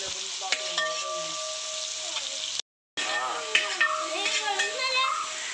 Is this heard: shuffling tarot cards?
no